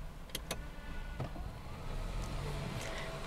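A 2022 Mercedes C200 engine starting: a couple of faint clicks, then a soft, smooth rise into a low, steady idle, heard close up with no talking.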